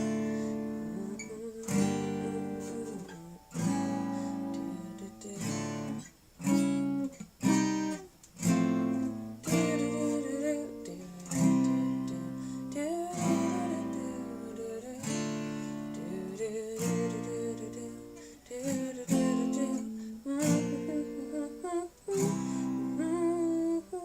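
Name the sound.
acoustic guitar playing sweeps on chord changes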